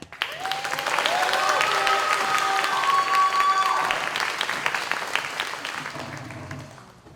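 Audience applause welcoming a student speaker at an eighth-grade promotion ceremony, sustained clapping from a large crowd that swells quickly, holds steady, and then fades out near the end.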